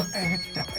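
A mobile phone ringtone chirps briefly and at moderate volume, a short tonal electronic ring in a tense film scene.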